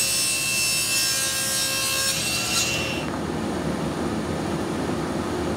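A saw rasps steadily through a piece of 5/8-inch wood stock, loud and close with continuous back-and-forth grinding, the tone dropping and roughening partway through the cut.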